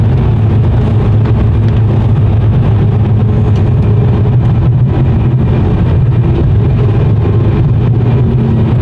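A car's engine drones steadily from inside the cabin while driving to the shop, a loud, constant low rumble with road noise and no talk.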